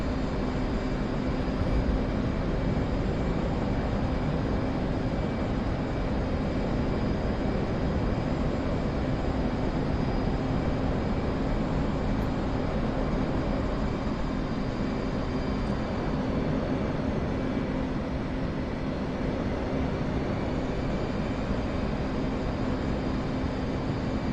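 Warbird aircraft flying in the DCS combat flight simulator: a steady, loud propeller engine drone that holds unbroken throughout, with no voices heard.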